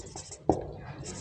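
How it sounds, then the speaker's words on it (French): A pen scratches briefly on paper, faint and close, with one sharper stroke standing out in a quiet room. "je vais écrire ça ici"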